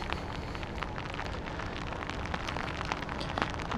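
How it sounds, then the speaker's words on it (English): Steady rain pouring down during a Kansas City storm, a dense continuous hiss with scattered nearby drips and spatters, no voices. "Yep, here comes the rain."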